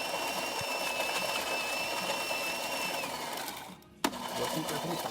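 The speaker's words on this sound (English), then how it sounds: "So starting with one espresso, we're gonna test the machine out." A Gaggia espresso machine, just serviced and tuned up, pulls a test shot with a steady loud mechanical pump hum and whine that dips briefly near the end before a sharp click and resumed drone.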